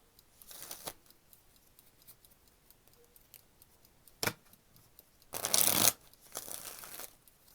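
Tarot cards riffle and slap in a few quick bursts, separated by quiet gaps, with one longer, louder shuffle near the end.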